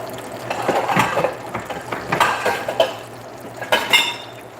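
Spinach and rice being tossed into a skillet, irregular clattering of pan and utensils with light sizzling and wet stirring sounds close up, no talk.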